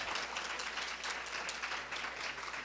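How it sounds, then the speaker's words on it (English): Audience at a West Coast PANDAS/PANS symposium applauding, a dense, even roar of many hands clapping steadily from start to finish with no talk over it. "You want to clap?"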